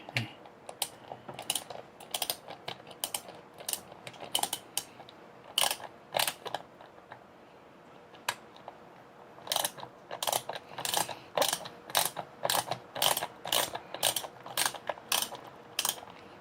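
A small ratchet socket wrench drives screws in and out on an electrical faceplate, giving close, rapid bursts of crisp clicking with short pauses between runs.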